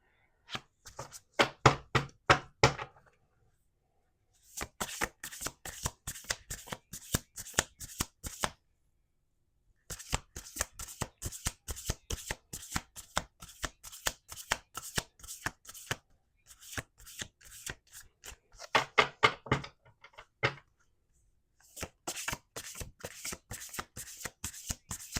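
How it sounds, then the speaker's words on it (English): Tarot cards riffle-shuffled in rapid bursts of crisp, papery flutters, separated by short pauses, up close with no talking. "We're going to do two more shuffles."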